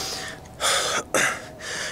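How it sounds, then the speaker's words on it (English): Heavy, ragged breathing after soccer endurance training: several loud, close gasping breaths in and out, one after another. "See, I'm out of breath."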